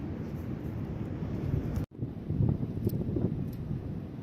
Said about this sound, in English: The wind's blowing about 15 knots, gusting 18, so excuse the wind in the video.